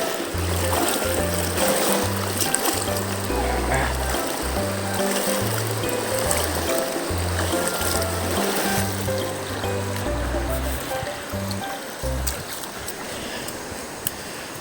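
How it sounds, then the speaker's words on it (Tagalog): Water rushes and sloshes as people wade across a stream near a pineapple farm in Bicol, a continuous watery wash running under steady background music. "tatawid tayo ng batis"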